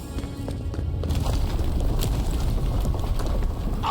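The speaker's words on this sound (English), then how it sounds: "That was a damn big explosion, wasn't it?" A big explosion in the video game Avowed rumbles as a continuous low, heavy roar, steady and fairly loud for several seconds, with scattered crackling bursts on top.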